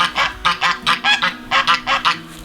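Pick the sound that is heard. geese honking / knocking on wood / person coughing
geese honking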